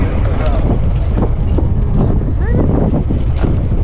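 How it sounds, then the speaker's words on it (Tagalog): Steady, loud wind buffeting a camera microphone outdoors in Finland, a constant low roar with rumbling gusts throughout, and faint voices underneath. "Pasensya na kayo kung maingay yung ating background sa ating camera dahil kasi mahangin man."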